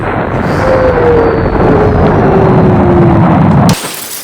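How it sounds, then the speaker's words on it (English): A toy rocket blasts off with a loud, steady, roaring rush and a faint falling whistle. The roar lasts nearly four seconds, then cuts off abruptly. "Now Bunny's gonna blast off. 3, 2, 1, fire"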